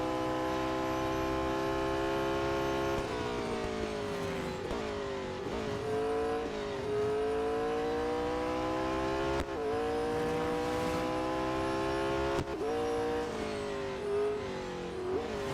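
Race car engine in the Real Racing 3 video game, a sustained harmonic drone that climbs in pitch through the gears, with abrupt drops at each shift repeating across the lap.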